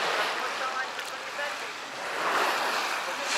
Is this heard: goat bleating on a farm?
no